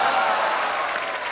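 Studio audience applause on a Hindi television comedy show, a dense steady wash of many hands clapping, loud and continuous throughout with no talking.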